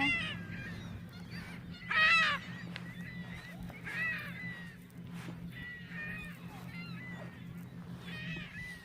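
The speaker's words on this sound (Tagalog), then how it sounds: "ang daming ibon" A large flock of birds honks like geese outdoors, with repeated overlapping calls at middling distance, one louder burst standing out, over a steady low hum and occasional faint voices.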